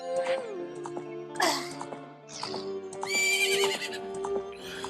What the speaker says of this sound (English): Epona is really awesome. I mean, it's a really great little horse, right?